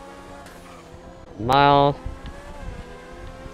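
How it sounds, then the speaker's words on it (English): Supercar engine in GTA V roaring in a short loud rev burst partway through, over a steady game engine drone, with a person talking. "But this is a supercar though."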